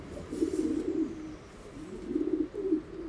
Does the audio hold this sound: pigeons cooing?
yes